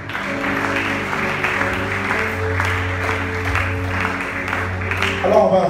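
A church congregation claps steadily for several seconds, with the applause blended over sustained music tones and swelling slightly near the end.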